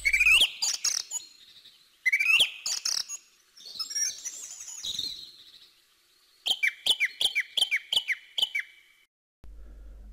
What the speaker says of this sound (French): comme ici la grive musicienne